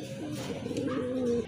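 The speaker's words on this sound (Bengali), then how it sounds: "এখন কিন্তু এক জোড়া বানজা কবুতর দেখতে পাচ্ছেন" Pigeons, a pair of Jacobin-type fancy birds, coo softly in a low, rolling murmur that runs steadily through the short moment, close by with no talking.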